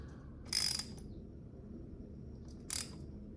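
A ratchet tightening a part on a Kawasaki KLX300 during an oil change gives two short, close metallic clicking bursts over a steady low background hum.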